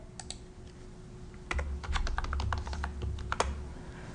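Rapid clicking of computer keystrokes while code is edited, a steady run of light taps that thickens into a denser burst of typing partway through, close and dry with no voices.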